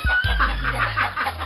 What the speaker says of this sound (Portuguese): A galinha tá chocando ali,